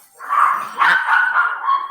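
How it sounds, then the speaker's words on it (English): Puppies barking and yipping in short overlapping bursts, fairly close and moderately loud, with no talk over them. "The puppies."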